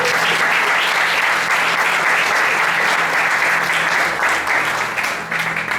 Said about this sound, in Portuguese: Você que pode, aplaudir ao Senhor.